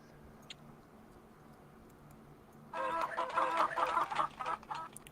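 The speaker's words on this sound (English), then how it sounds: "Those chickens sound like a whole bunch of people just laughing." Chickens in the video game Marathon 2 break into a loud burst of clucking partway through, following a quiet stretch with a soft low hum and faint ticks.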